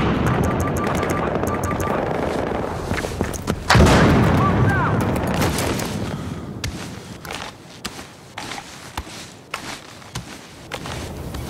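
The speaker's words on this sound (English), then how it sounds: "Look out, throwing grenade!" Video game firefight: a heavy grenade blast bursts out a few seconds in amid steady gunfire, with scattered shots and impacts continuing loudly afterward.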